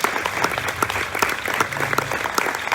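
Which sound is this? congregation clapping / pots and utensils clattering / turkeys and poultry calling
congregation clapping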